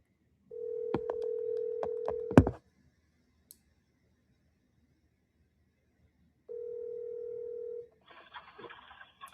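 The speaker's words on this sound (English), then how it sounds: "Ringing." Two long electronic ring tones over a phone line, the first overlaid with a few sharp clicks, then a short burst of static.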